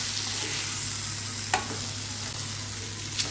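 Egg masala sizzles steadily in a frying pan while a spoon stirs it, giving a couple of faint scraping knocks over the continuous close hiss of frying.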